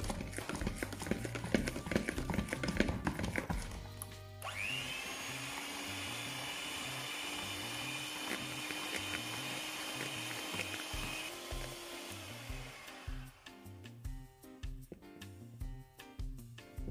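An electric hand mixer beats sour cream with powdered sugar and vanilla for a cake cream, a steady whining drone lasting several seconds over faint rhythmic background music.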